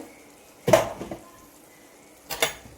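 A metal spoon stirs and scrapes spice powders in a pan for fish curry, giving two short clattering bursts about a second and a half apart, with near-silence between.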